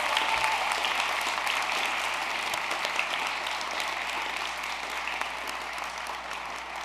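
An audience at a school honor society induction ceremony applauds the students, a dense, continuous wash of many hands clapping that holds steady and fades slightly near the end.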